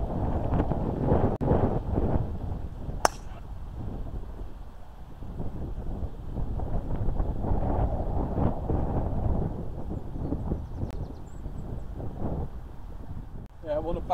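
Wind roars steadily across an outdoor golf course, a constant low rumble buffeting the microphone, with a faint brief click partway through and no talk.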